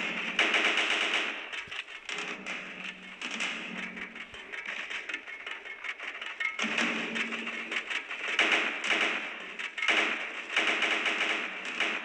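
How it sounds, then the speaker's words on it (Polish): Rapid bursts of automatic gunfire from a companion character in a video game rattle steadily and loudly, with short pauses between volleys and no talking. "I rozumiem, że to tutaj strzela mój kompan"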